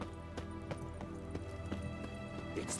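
Horse hooves clip-clop at a steady trotting rhythm in The Witcher 3: Hearts of Stone, moderately close and clear over a layer of game ambience, with no talk.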